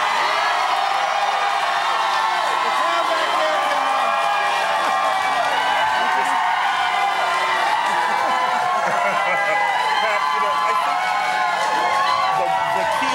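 Large political convention crowd at the Democratic National Convention shouting and cheering together in a dense, continuous roar, with a loud announcer's voice talking over it throughout.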